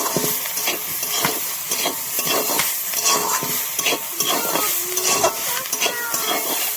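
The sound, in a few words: vegetables being stir-fried in a pan for chow mein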